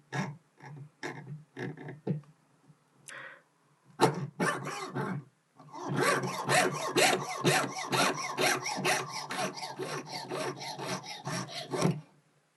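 A jeweller's saw cuts through a metal tube held on a bench pin while a domed locket is being made. A few separate rasping strokes come first, then a long run of quick, steady back-and-forth strokes, close and clear, with no talking.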